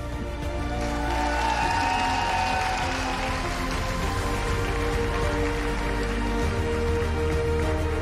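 A large crowd applauding at the Miss Czech Republic beauty pageant, dense and sustained clapping that fills the space at a steady, loud level throughout.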